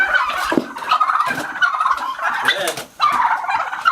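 Turkeys gobbling on a homestead, loud and close, several rapid warbling gobble bursts back to back, with a voice briefly audible beneath.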